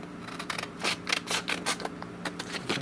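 Scissors cutting 1500-grit sandpaper, a quick run of close, crisp snips in an uneven rhythm, each a short raspy crunch, with no talking.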